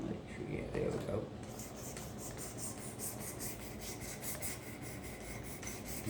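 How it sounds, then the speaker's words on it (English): A karambit blade is drawn across a fine grit diamond sharpening stone, giving a steady, close raspy scraping that runs continuously at moderate level with little change in rhythm. "you can tell it's quieter, so you can tell it is a finer grit stone"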